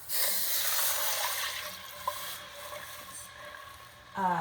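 Broth poured from a container into a pot for mac and cheese soup gives a soft splashing trickle that fades midway, then a brief louder burst near the end, quiet and close.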